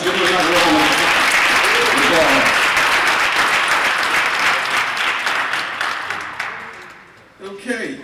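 Sustained audience applause for a chaplain after an oratory address, a dense wash of many clapping hands that holds steady for several seconds, then thins and fades out near the end.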